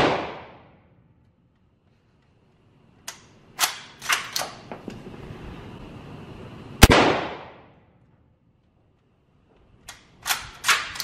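Test-firing a heavy gun outdoors: a loud shot opens, then a cluster of sharp reports, another loud shot mid-way, and a final short burst of cracks, separated by quiet gaps with a low rumble between.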